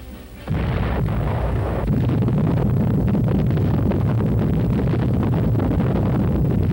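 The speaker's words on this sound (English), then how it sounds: "the first films of Amazon Annie actually firing an atomic shell" An atomic cannon fires an atomic shell in archival test footage: a sudden loud blast rolls into a sustained, rumbling roar that persists to the end, heavy and distant with wind-like buffeting, and no voices.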